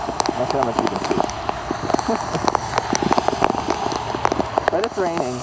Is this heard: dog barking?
no